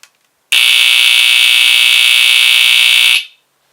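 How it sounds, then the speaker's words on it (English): A vintage BRK 1769ACI smoke detector sounds its test alarm: one loud, steady, piercing electronic tone that holds for about three seconds and then cuts off, with no voices. "So that's the sound it makes."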